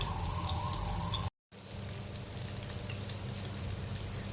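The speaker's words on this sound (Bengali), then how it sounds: "আসুন এভাবে আমরা পকোড়াগুলো ভালোভাবে ভেজে নিই সবকটা" Pakoras deep frying in hot oil, a steady soft crackling sizzle with fine popping, broken by a brief gap of silence before resuming at the same even level.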